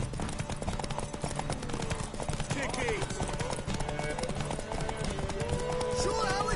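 Horse hooves clip-clop in a steady rhythm in The Witcher 3 video game, heard under ongoing character voices, music and game ambience.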